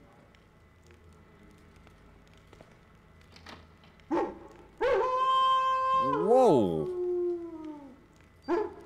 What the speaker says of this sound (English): Dogs barking at strangers.